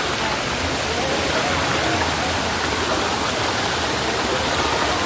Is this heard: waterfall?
yes